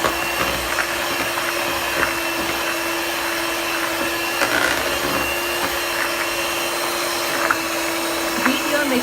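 An electric mixer beats butter chocolate cake batter toward ribbon consistency, giving a steady, loud motor whine with a constant pitched hum and slight rattles, running unbroken throughout.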